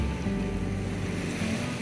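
A sailboat motors over open ocean swell under engine and autopilot, giving a steady low engine drone mixed with rushing water and wind noise.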